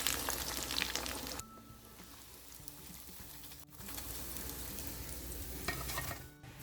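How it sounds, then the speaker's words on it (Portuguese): Croquettes deep-frying submerged in hot oil make a steady, dense sizzle and crackle that drops briefly quieter midway, then swells again, close and continuous with no voices. "Frite os salgados imersos no óleo, mergulhados no óleo."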